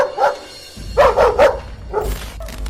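Dogs bark at a thief in Davao City, several sharp barks in bursts, close and loud, with short yips between them over low background noise.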